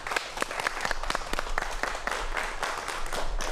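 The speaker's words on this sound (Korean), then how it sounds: "박수 부탁드립니다." A studio audience at a Korean television lecture broadcast applauds to welcome a professor, a brisk, dense burst of many hands clapping at moderate volume over a low hum, with no talking over it.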